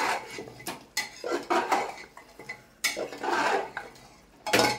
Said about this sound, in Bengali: মাটনে আলুটা অ্যাড করলাম। একটু নাড়াচাড়া করে নিই।